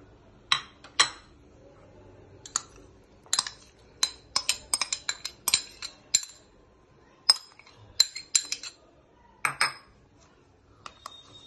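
A utensil clinks and scrapes against a large bowl as ingredients are mixed, giving irregular sharp taps in quick clusters with quiet gaps between them.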